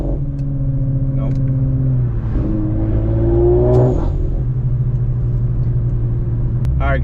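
A modified Audi RS5 accelerates under boost, the engine note climbing through the gears with a deep rumble, loud from inside the car, easing off toward the end.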